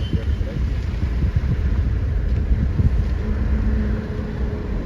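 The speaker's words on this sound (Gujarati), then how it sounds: "જો ટ્રેક્ટર ઝડપી આવી ગયું અંદર." A farm tractor comes in fast on a potato farm, its low engine rumble rolling steadily under gusts of wind buffeting the microphone.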